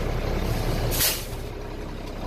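Air brake on a Class A truck is pressed during a brake pressure test, releasing a loud, close hiss of escaping air over a steady low engine idle, which continues alone afterward.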